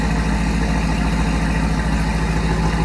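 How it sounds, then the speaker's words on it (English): A 2004 Chevrolet Corvette coupe with a Corsa exhaust idles, giving a steady, low, pulsing exhaust rumble, close and continuous with no voices. "Hear the little rumble out of that Corsa."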